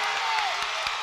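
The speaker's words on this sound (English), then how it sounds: "All of a sudden the crowd has come to life." A crowd at a boys' high school basketball game between Eastern View and Atlee roars steadily after a three-pointer, a broad wash of cheering and clapping with a commentator's voice over it.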